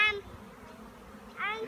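A swarm of bees, likely just left a hive, buzzing in the open: a droning hum with short harmonic whines passing near at the start and end.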